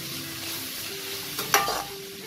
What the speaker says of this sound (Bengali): তেলে কয়েক সেকেন্ড আমি এটাকে নাড়াচাড়া করব।